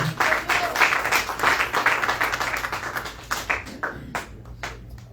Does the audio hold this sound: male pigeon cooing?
no